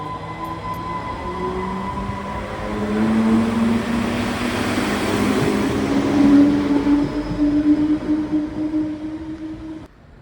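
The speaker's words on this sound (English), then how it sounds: "Here a train departs Shotton High Level." A Transport for Wales diesel unit pulls away from Shotton High Level station on the Borderland Line, its engine note rising and swelling as it accelerates with rumbling wheels, loud and near, then cutting off abruptly.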